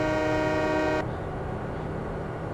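Train horn in the video game Farming Simulator 2017 blares as a loud sustained tone for about a second, then cuts off, leaving a low rumbling background.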